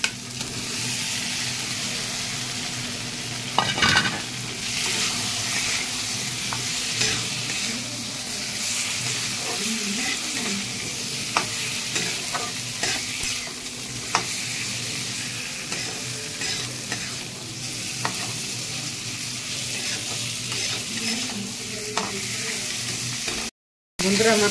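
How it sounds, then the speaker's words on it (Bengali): Fish stir-fried in a spice masala, a steady sizzle with repeated scraping stirs of a spatula in the pan, close and continuous, with a faint voice at moments. "আমি মশলার ভিতরেই মাছ দিয়ে কষে নেব আবার।"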